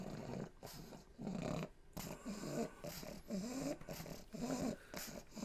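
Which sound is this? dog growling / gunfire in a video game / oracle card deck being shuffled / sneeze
dog growling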